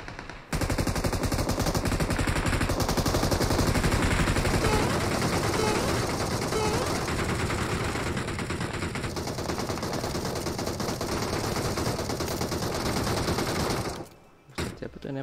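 Near-continuous gunfire from a shooter video game: loud, sustained automatic bursts and shots running almost without pause for about thirteen seconds, with a brief voice near the start, then cutting out near the end.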